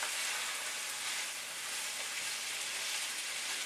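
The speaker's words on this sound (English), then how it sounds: "Gonna give them a nice little stir." Pasta stirred in a hot pan for chop suey gives a soft, steady sizzle and frying hiss, fairly quiet and unbroken, with no voices.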